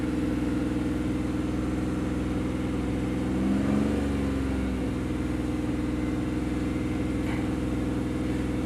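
A car idles with a faulty, unusually loud exhaust, a steady low rumbling drone that holds constant throughout, with a slight swell in the middle and no talking.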